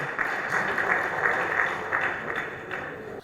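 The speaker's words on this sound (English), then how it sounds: "Let's give him a round of applause." An audience at an award ceremony applauds for a few seconds in a steady patter of clapping, moderately loud, fading slightly at the end.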